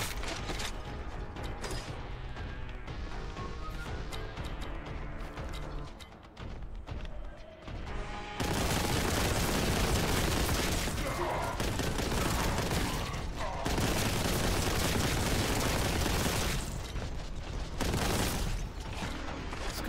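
A doubly upgraded gun in Warhammer 40,000: Boltgun firing continuously: dense, loud mechanical rattling bursts with heavy booms that grow fuller and more intense partway through, sustained without pause over game noise, no voices heard.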